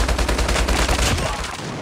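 Rapid bursts of shotgun fire in a multiplayer search-and-destroy video game round, loud and dense with heavy low-end thumps packed together throughout.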